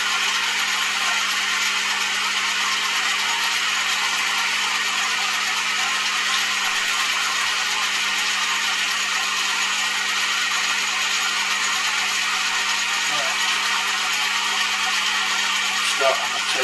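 A lathe machines the prop boss of a diesel engine build, producing a loud, continuous, even whir of cutting with no pauses.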